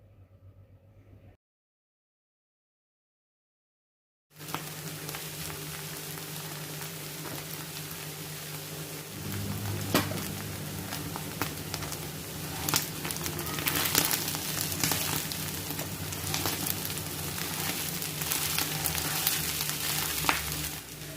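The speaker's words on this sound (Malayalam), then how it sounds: "നമ്മൾ ബീഫ് ഫ്രൈ ചെയ്തിട്ട് നല്ല ബ്രൗൺ കളറായിട്ടുണ്ട്." Steady, dense sizzling of beef frying in oil coated with masala, Kerala style, loud and close and continuing for many seconds after a brief silence, with occasional louder crackles.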